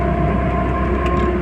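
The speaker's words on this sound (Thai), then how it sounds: "มันจะมีเสียงหอนเวลายกคันเร่งนะครับ" A Toyota Corona with a whining fault on lift-off from the accelerator gives a steady, tonal whine over a continuous low road and engine rumble, held evenly throughout with no talk.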